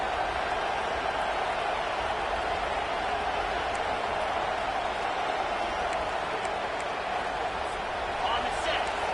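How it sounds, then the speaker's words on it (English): A big stadium crowd at a SC vs Penn State football game roars continuously near the goal line, a dense and loud wall of cheering that stays steady throughout. "this big crowd doing everything possible to inspire this defense down here near the goal line"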